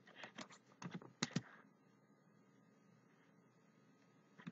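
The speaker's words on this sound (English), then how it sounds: "now I'm pressing the keyboard and it doesn't happen" Typing on a computer keyboard, a quick cluster of close, faint key clicks in the first second and a half, then near silence with one last tap at the end.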